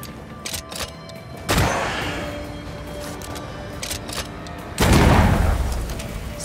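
Two heavy gunshots fired at a lantern in the game Banishers: Ghosts of New Eden, each a loud broadband blast with a rumbling tail, about three seconds apart over a quiet ambient bed.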